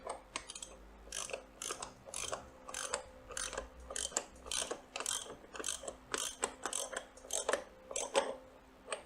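A ratchet tightens the right-hand-thread nut on a Harley Davidson clutch shaft during a compensator and clutch pack install, giving steady rapid clicking strokes in short bursts, close up and alone.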